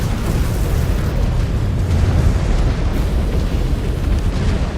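Explosions from incoming missiles in MechWarrior 5: Clans, a loud continuous rumbling roar of blasts and debris with no distinct gaps.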